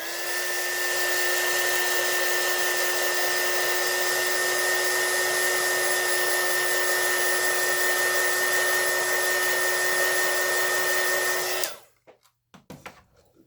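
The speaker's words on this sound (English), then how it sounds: "And now I'm going to take my heat gun to dry it." A heat gun blows a steady, loud whirring hiss as it dries alcohol ink for about twelve seconds, then clicks off, leaving faint handling noises.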